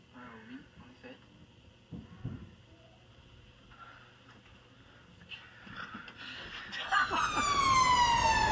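An ambulance siren rises from about seven seconds onward, wailing louder and nearer toward the end over quiet talk and background noise.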